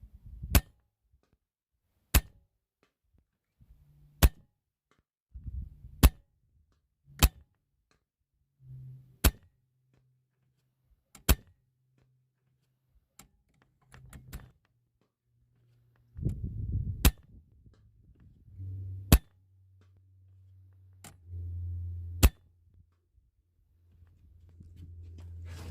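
Kral air rifle firing .22 NSA 20.2 grain slugs: about a dozen sharp, isolated shots at irregular intervals, with faint handling noises and low hum between them, and no talking.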